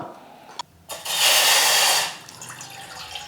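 A cup of water poured into a pan while making laddu from roasted flour and semolina, heard as a loud, steady splash of about one second, close by, with no talking.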